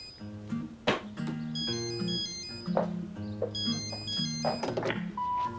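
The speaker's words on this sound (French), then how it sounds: "mon téléphone sonne" A phone ringtone plays a repeating melodic tune with beeping notes, interrupted by a few heavy thumps nearby.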